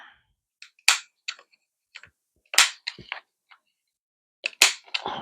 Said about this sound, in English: I'm going to round the corners with my corner rounder.